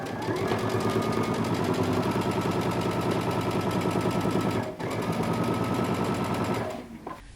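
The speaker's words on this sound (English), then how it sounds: "we're going to sew using 5/8 of an inch seam allowance" A sewing machine stitches a jumpsuit seam at a 5/8 inch allowance, running in a steady rapid whir for several seconds, pausing briefly, then resuming before stopping near the end.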